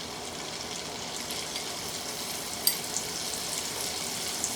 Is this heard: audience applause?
no